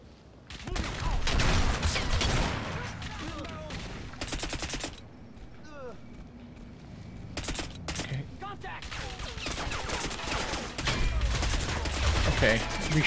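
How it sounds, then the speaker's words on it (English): Dense automatic and rapid gunfire in the shooter game Crysis Remastered, loud and sustained across the whole stretch with brief lulls and overlapping bursts, mixed with other game effects. "this section is loud, it's in your face, there's a lot going on"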